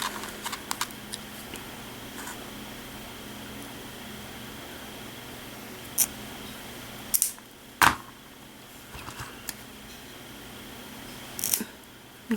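Scissors cut through macrame cord for a bracelet in a few sharp, isolated snips spread out over a quiet, hissy room.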